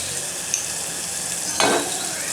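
Chicken sukka with spices is stirred in a frying pan, a steady close sizzle with a brief scraping stir near the end.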